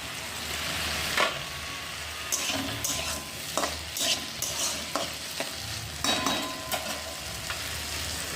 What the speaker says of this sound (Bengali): আর ততক্ষণ আমি আলুটা ভেজে নিচ্ছি একটু